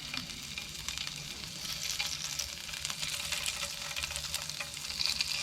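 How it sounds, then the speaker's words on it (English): Fish sizzles steadily in a hot pan, a continuous crackling hiss at low volume with no talking. "That's already, you can hear it sizzling."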